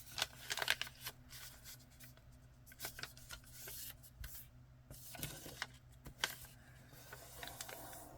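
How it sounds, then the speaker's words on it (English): A long strip of paper being folded up for a junk journal, with crisp crinkles, rustles and sharp creases coming in irregular close bursts. "I'm just going to fold that up"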